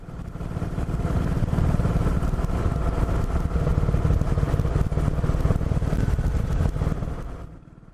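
A Panther motorcycle rides along a road with scenic snow lying around, its engine droning steadily and loudly up close for several seconds before fading out at the end.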